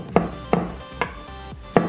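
Candlenuts being crushed by hand to smooth spices before blending, heard as four sharp, separate impacts spaced roughly half a second apart, close and fairly loud with no voices.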